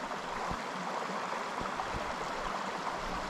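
The Nile River near Ben Lomond flows as a steady rushing, gurgling stream, a continuous broadband wash of water with a few soft low knocks and no voices.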